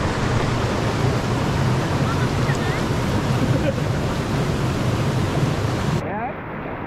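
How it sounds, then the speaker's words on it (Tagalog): Strong water current and waves at Dingalan, Aurora roar loudly and continuously, with wind buffeting the microphone. "Malakas yung agos, nakakatakot bumaba."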